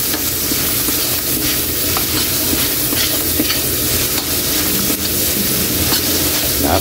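Garlic and onion frying for pork kare-kare, a loud, close, continuous sizzle with occasional stirring scrapes throughout.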